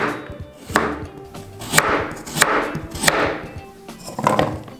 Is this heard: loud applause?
no